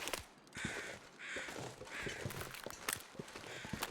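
Crows cawing in the snowy wilderness of the survival video game The Long Dark, repeated harsh calls over a steady wind-like hiss, with soft crunching steps underneath.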